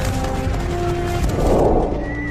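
A horse whinnies over a dense, rumbling battle scene of mounted cavalry in ancient warfare, the neigh rising loud near the middle and fading, with steady low noise throughout.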